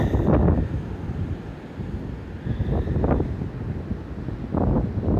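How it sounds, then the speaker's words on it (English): Gusting wind buffets the microphone while ocean waves surge and break in recurring swells, a loud, continuous roar with no talking. "I didn't hear it with the wind blowing and the waves"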